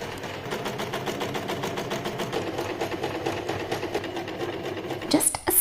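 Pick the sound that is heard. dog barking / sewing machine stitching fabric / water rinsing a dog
sewing machine stitching fabric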